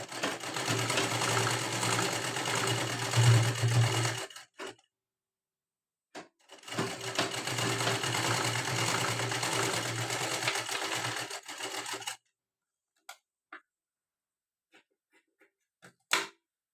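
An electric sewing machine stitching a blouse runs in two steady bursts of several seconds each with a short pause between, then goes quiet apart from a few scattered clicks and taps.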